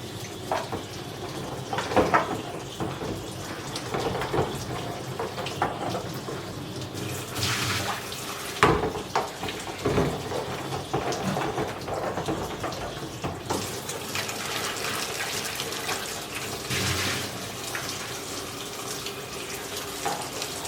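Water runs steadily from a kitchen tap to rinse out equipment while making red wine, a continuous splashing stream with a few clunks and shifts in flow, heard close up with no talking.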